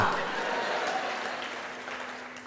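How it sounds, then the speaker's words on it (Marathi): Hand clapping in a steady, dense burst, sounding like a small group applauding fairly close by, holding at an even level and easing slightly toward the end. "भाऊची टाळी बघा"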